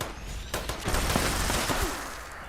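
Gunfire in Fallout 76, a dense run of rapid shots and bursts lasting about two seconds with steady loud action, heard without talk.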